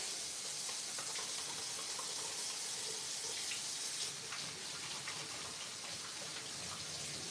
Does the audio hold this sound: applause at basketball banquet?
no